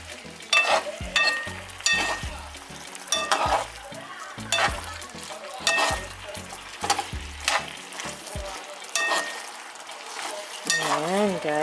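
Beef broccoli sauce with carrots is stirred in a pan, a close series of rhythmic spoon clinks and scrapes over a thickening sauce, with a soft sizzle and a brief voice near the end.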